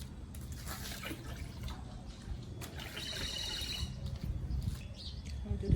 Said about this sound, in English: Gonna pour that in this bucket right here.